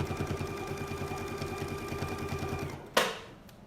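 A sewing machine stitching steadily along a quilting template with a rapid, even mechanical hum and needle patter for nearly three seconds, then a sharp clunk as it stops.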